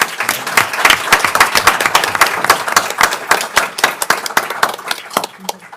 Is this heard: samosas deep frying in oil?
no